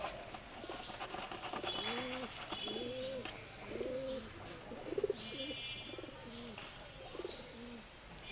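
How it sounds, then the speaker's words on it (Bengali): A female pigeon held in the hand gives a run of repeated soft, rolling coos at a steady pace, close and fairly quiet, with faint chirps and background noise behind it. "এটা একটা মাদি কবুতর"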